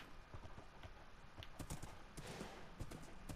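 Horse hooves clip-clop in Minecraft, a quiet, irregular patter of hoof knocks that grows busier partway through, faint and close with no talk over it.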